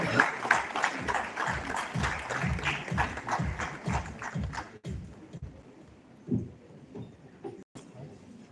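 Applause at a legal awards ceremony for chief guest Justice N Kotiswar Singh, a few seconds of rhythmic, fairly close clapping that cuts off sharply and gives way to quiet room sound with faint scattered movement.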